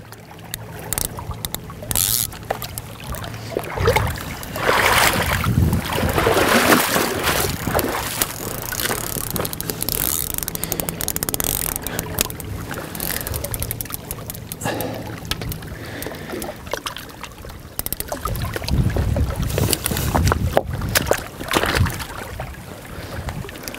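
A small boat rocks on open water in strong wind and big waves, with steady roaring wind noise and water wash throughout, close and loud, with no talking.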